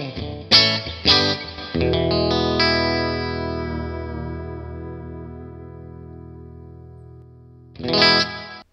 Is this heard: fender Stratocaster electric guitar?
yes